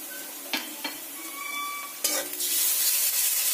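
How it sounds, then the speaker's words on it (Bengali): Garlic paste hits hot oil over browned onions in a pan for an egg and potato curry. Spoon clinks sound at first, then a loud, steady sizzle swells up close. "রসুন দিয়ে খুব ভালো করে ভাজতে হবে যতক্ষণ না রসুনের কাঁচা গন্ধ যায়"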